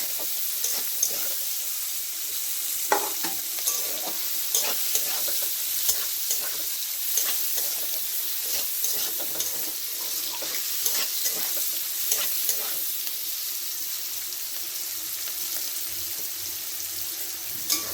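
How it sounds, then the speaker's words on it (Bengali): Chopped onions and green chillies fry in oil while being stirred, a continuous sizzle punctuated by regular scraping and tapping of a spatula against the pan. "এগুলো দিচ্ছি কাঁচা লঙ্কা, পেঁয়াজটা একটু ভালো করে ভেজে নিতে হবে।"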